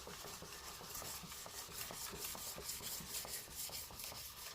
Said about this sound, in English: as you're working your blades, turn your block occasionally